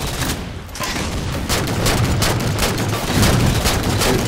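Rapid gunfire in Halo 4 Spartan Ops, with dense overlapping shots and bursts firing continuously at close range, loud and unbroken.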